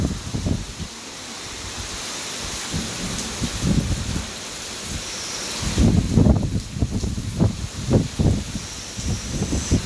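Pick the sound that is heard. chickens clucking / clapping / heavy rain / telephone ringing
heavy rain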